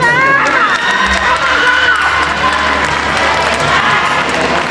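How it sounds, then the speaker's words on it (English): Loud audience cheering and applause with shouts and whoops at a Philippine pageant final question-and-answer round, a dense crowd roar sustained throughout. "A round of applause."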